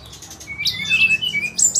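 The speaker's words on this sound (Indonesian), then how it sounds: "yang dipegang ini ada burung Sri Gunting Abu" A young ashy drongo held in the hand gives rapid, high chirps and squeaky calls, close and fairly loud in short bursts.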